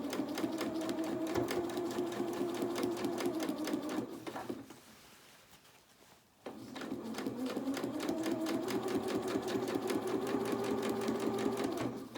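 Sewing machine stitching a doll's dress skirt with netting, a fast, even mechanical whir running for several seconds, pausing briefly, then starting up again, close and clear with no talking.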